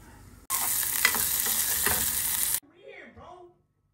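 Chopped onion hits hot oil seasoned with dried chilli and cumin, bursting into a loud, bright sizzle that holds steady for about two seconds with a few stirring scrapes before cutting off.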